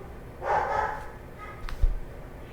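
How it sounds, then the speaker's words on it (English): A dog barks a short burst near the start, followed by a fainter yip or bark moments later, against a quiet indoor background. "I guess my dogs are upset"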